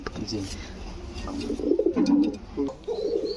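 Pigeons coo in low, soft repeated warbles, nearby, with a person talking over them and some faint chirps.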